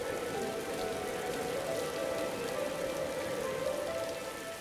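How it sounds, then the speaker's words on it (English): Rain in the survival video game Raw Danger, a steady, even downpour hiss that continues without a break and without any voices. "Rain on Christmas?"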